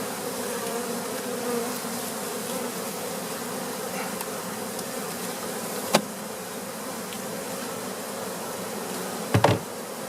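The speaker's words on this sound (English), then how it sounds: "Oh, bees. This is a pretty healthy hive, huh?" Honey bees buzz steadily around a Flow hive during an October harvest, a dense continuous drone close by with a couple of sharp knocks near the end and no talk.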